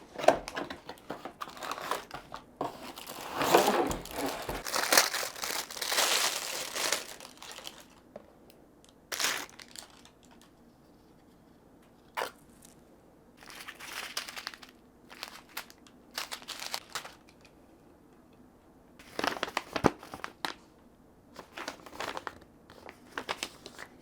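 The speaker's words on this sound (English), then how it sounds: "So I'm gonna cut to the other day when I unboxed it." Crinkling and tearing of plastic and cardboard packaging as a Nerf Gelfire Mythic gel blaster is unboxed, in irregular bursts of rustling with quiet gaps between them.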